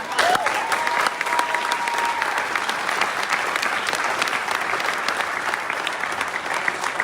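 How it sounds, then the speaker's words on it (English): Sustained applause from a gathered audience at a touring doctors' event in Mile House, BC, steady and dense clapping throughout, with a faint voice briefly audible near the start. "a big round of applause for Colleen"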